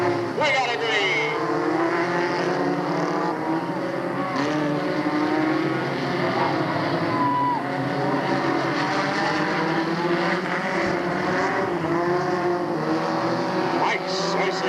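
Stock cars, including a Mustang, race around the Delta Speedway oval in 1997, their engines whining and sweeping in pitch as they pass, with an announcer talking over the continuous motor noise.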